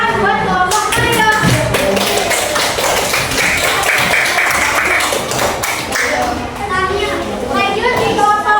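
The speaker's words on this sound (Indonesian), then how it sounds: "tepuk tangan buat kelompok Mario" Schoolchildren in a classroom applaud a student group, with a dense burst of clapping under children's voices and chatter throughout.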